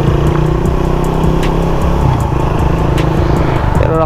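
A rider's own motorcycle, fitted with a shifter and mini driving lights, runs loud and close for the whole stretch, its engine droning and revving steadily with no talk over it.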